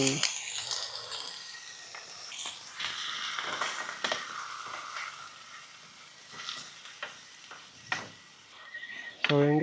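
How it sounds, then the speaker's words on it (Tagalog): Chicken pieces frying in a pan with garlic and onion at a campsite cook, a light sizzle with scattered clicks and utensil taps, moderately close and fairly quiet. "prito ko lang saglit tong manok"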